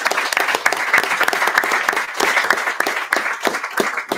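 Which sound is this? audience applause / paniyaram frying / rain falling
audience applause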